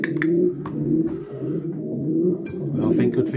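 Racing pigeons in a widowhood hen loft coo in a dense, continuous chorus close by, with low burbling calls overlapping throughout.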